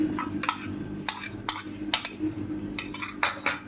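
A spoon scrapes and clinks against a metal bowl in repeated sharp strokes as crushed corn is mixed into semolina batter for corn dhokla, close and clear with no talking.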